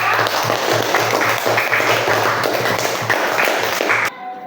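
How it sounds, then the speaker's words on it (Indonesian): Classroom audience applauding a student presentation group, a dense, steady wash of clapping hands that fills the room for about four seconds and then stops abruptly. "Beri aplaus dulu untuk kelompok 3"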